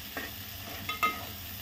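Homemade masala roasting in a pan for veg pulao, with soft steady sizzling and two or three quick scraping stirs close by, fairly faint, and no voices.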